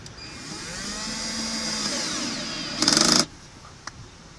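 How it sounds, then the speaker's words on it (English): Electric drill driving a screw while replacing a window actuator in a Dodge Journey door, with a long rising motor whine, then a short, louder, harsh burst as the screw seats, and a faint click after. "I have my electric drill, which I can screw it in with."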